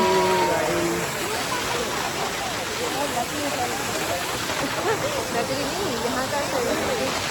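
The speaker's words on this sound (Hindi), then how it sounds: "ये है 7 सिस्टर वाटरफॉल" The Seven Sisters waterfall in North Sikkim roars as a steady, loud rush of falling water, with a voice speaking briefly at the start over the constant spray.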